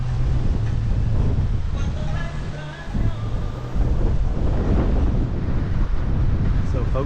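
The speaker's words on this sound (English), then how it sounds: "I don't know if you can hear me actually, it's very windy" Strong wind buffeting the microphone in a steady roar on a Belize island, with a voice speaking faintly underneath.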